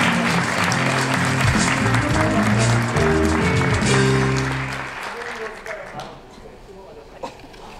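Loud applause at a humanities forum opening ceremony in Seoul, dense clapping under a low hum of voices and music that fades out after about five seconds, leaving a quieter room with a few stray claps.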